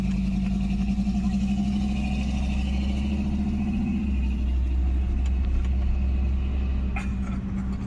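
An old truck engine idling nearby, a steady low rumble with a faint hum that holds for about eight seconds, slightly shifting in tone partway through, with no talking over it.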